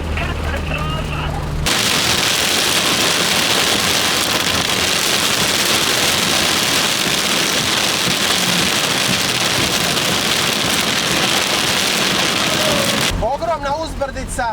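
Torrential rain hammers a small old Fiat (Fićo) on a steep uphill road near Zagreb during a violent storm, a loud continuous roar. Talk is heard briefly at the start and again at the end.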